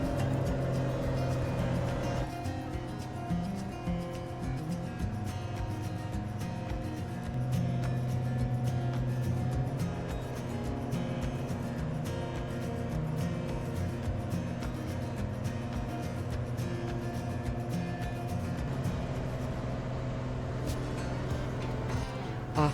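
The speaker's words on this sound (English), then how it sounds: "I love the sound of a Cessna 185 at full bite, it's a very noisy aeroplane" Cessna 185 piston engine roaring at full power on climb-out near Milford Sound, a loud, steady droning hum with a strong low propeller buzz that holds for the whole stretch.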